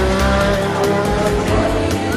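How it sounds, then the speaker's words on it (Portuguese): A Formula 1 Minardi race car, number 24, crashes at speed. The clip is a loud, continuous roar of engine and screeching tires skidding across the track, with no distinct impact standing out. "Uma batida forte de Alessandro Nannini"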